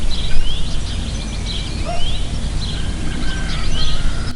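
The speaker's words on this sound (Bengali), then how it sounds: "চারপাশে শুধু পাখির ডাক" Birds call around a Birbhum village among bushes and paddy fields, several bright chirps and whistles coming and going over a dense, loud background hum.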